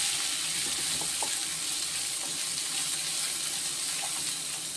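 Onions sizzle in hot oil with mustard seeds and dal for spicy kara paniyaram, a dense, steady frying hiss with faint stirring clicks, close and continuous, no talk.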